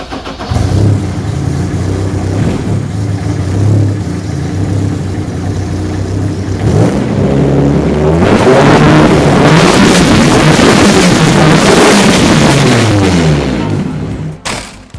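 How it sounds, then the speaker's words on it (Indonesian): A Fiat Abarth 131 rally car, a 1970s WRC machine, cranks and fires into a loud, steady idle close by, then climbs into sustained revving with the engine note rising and falling before cutting off. "Engine start."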